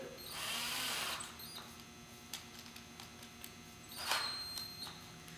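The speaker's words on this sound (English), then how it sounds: "now we're going to take our drill and our drill bit" A small power drill whirs in two brief, faint bursts into soft Bondo filler on a C2 Corvette, with light ticking and clicking in between.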